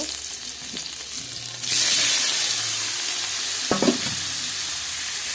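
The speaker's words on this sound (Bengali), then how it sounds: "গরম হয়ে গেছে, এবার আমি পনিরগুলোকে ভালো করে ভেজে নেব।" Paneer is dropped into hot oil in a wok, setting off a sudden loud hiss that settles into a steady close sizzle, with a brief clatter partway through.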